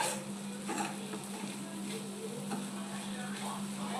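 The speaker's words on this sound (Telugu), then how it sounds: "ఇది వేసేసుకొని ఒకసారి దీన్ని మొత్తం మిక్స్ చేయాలన్నమాట" Sabudana khichdi being stirred in a pan after peanut powder is added, a steady sizzling fry with soft scraping stir strokes repeating throughout, close and even.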